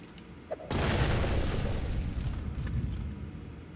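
A grenade blows up in the video game Ghost of a Tale, a single loud blast that follows a small pop and then rumbles on steadily to the end.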